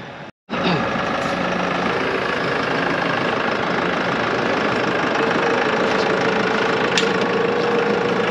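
Engine of an Arbos 4110 tractor idling steadily and close by on a farm before sowing, a loud continuous rumble after a brief silence at the start.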